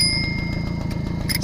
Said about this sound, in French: il n'y a pas de klaxon, c'est juste une sonnette